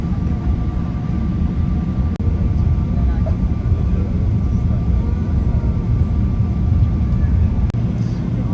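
Steady, loud broadband cabin roar of a Turkish Airlines Boeing 777-300ER taxiing at night toward takeoff position on the runway, a continuous low rumble with no distinct events.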